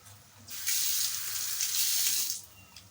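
Water gushes from a kitchen tap in one steady stream lasting about two seconds, close and alone, starting and stopping abruptly.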